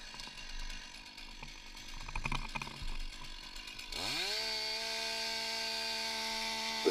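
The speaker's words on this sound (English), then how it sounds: "The sawyer will make a head cut" A firefighter's power saw cuts into a residential roof during ventilation, with clattering work noise first, then the engine revving up and holding a loud, steady high whine.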